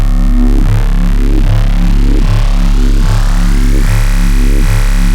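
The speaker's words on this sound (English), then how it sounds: "This one is bass line 13." Synth bass line preset 13 from a pack of 100 massive bass patches: loud, deep repeating bass notes in a steady rhythmic pattern with filter sweeps opening up, played alone.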